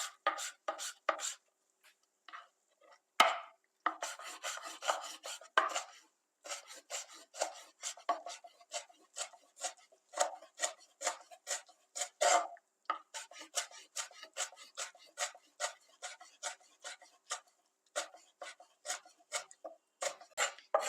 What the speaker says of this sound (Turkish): Şimdi ayıkladığımız, tohumlarımızı çıkardığımız biberlerimizi minik minik